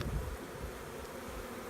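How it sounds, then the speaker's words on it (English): A honeybee swarm hums in a swarm trap, a steady, dense buzz holding at an even level throughout with no voices over it. "I noticed all these bees"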